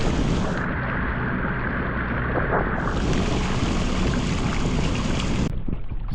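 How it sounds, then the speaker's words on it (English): A small boat runs under a Bixpy N-1 electric outboard motor in rough conditions, steady broadband water rush and wind buffeting the microphone throughout, with no talk. "So cruising with the new Bixpy N-1 motor"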